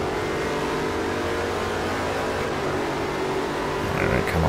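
A Koenigsegg engine in Forza Motorsport 4 roars loud and continuous as the car is driven hard on track, the pitch holding high and then climbing at the end.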